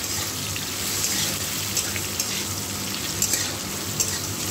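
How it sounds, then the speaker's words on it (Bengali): Food fries in a pan as small batches are added, a steady close sizzle and crackle with occasional sharper pops throughout. "অল্প অল্প করে দিয়ে আমি ভেজে নেব।"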